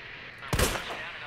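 A single loud gunshot booms in the Resident Evil 2 Remake video game, a sharp blast with a short rumbling tail over a steady background hum.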